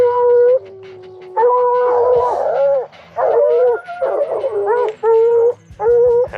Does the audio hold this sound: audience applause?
no